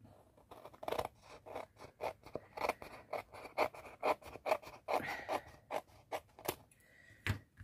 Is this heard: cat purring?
no